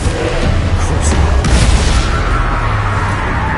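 The Confringo fire spell goes off in Hogwarts Legacy with a loud, booming burst that is close and dense. Sharp crackling pops follow at about one and a half seconds, over a constant rumble of combat.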